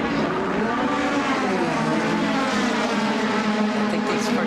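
1997 NASCAR Goody's Dash race cars roar through the tri-oval on the final lap, a loud, continuous wall of engine noise with shifting pitch as the pack passes close by, with no one speaking.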